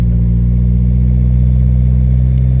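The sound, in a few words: car engine revving on the gas, Fiero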